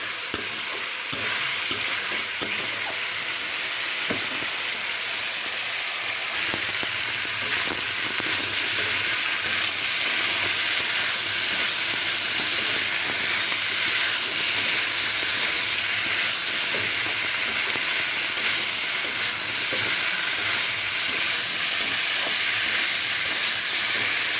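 Pona fish pieces with papaya being fried down in a pan, a loud steady sizzle with constant scraping stirs running throughout, close and without voices.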